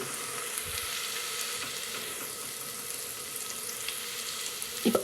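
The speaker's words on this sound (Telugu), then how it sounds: "ఉల్లిపాయలు బ్రౌన్ కలర్ వచ్చేంత వరకు వేగాలి ఉల్లిపాయలు చక్కగా ఫ్రై అయ్యాయి" Onions fry in a pan with a steady, even sizzle and crackle throughout, fairly quiet, ending with a couple of brief clinks.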